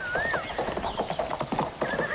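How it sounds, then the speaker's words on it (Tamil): A horse whinnies in a rising, wavering call, then hooves clip-clop steadily at moderate distance, and a second neigh cuts in near the end, with no voices. "குதிரை சத்தம் கேக்குது இல்ல?"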